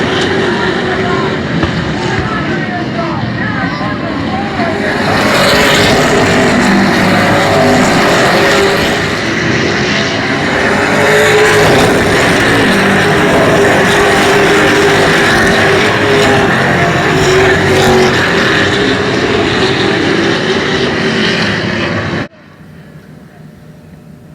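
Race cars roar around the Oyster Bed Speedway oval track, loud and sustained engine noise that surges and fades as the pack passes, under continuous commentary, then cuts off abruptly near the end.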